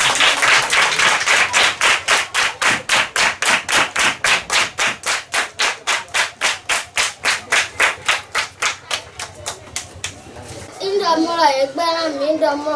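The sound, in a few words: audience applauding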